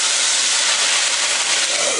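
Steady, loud broadband hiss of steam rising from a pan of hot water where cattail shoots cook, continuous and unbroken for the whole stretch with no talking.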